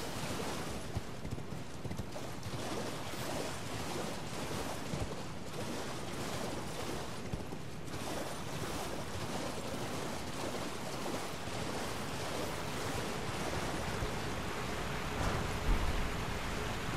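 A waterfall in the video game Elden Ring pours with a continuous broadband rushing roar, steady and moderately loud for the whole stretch with no speech.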